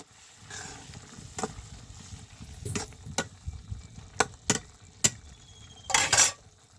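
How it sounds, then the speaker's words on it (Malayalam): Cauliflower masala gets stirred in a pan: quiet low bubbling punctuated by sharp metallic clinks and scrapes of a spoon, with a louder clattering burst near the end and no voices. "നമുക്കിതൊന്ന് ഇടയ്ക്കൊന്ന് തുറന്നിട്ടൊന്ന് ഇളക്കി യോജിപ്പിക്കാം"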